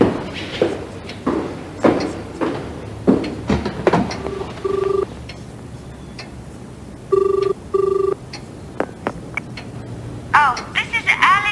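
A telephone being dialed, with short beeping tones in a few bursts among clicks and handling sounds, close and clear, with some talking nearby.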